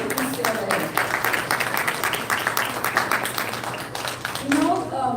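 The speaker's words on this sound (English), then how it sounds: "Please give them a round of applause for coming out to East LA." An audience at a public board meeting in East LA applauds, a moderate patter of clapping hands in a large room, mixed with voices and speech over it.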